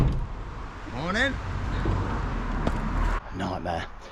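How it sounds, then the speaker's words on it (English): Cars pass along a road beside a parked camper van on a morning in England, a steady rumble of traffic with a car sweeping by up close partway through and a brief clunk near the end. "there's already loads of cars going by"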